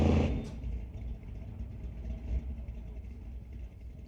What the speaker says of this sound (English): Terry in the left lane in the 66 Chevy Nova. Sylvia in the 66 Ford Mustang she calls Baby Blue.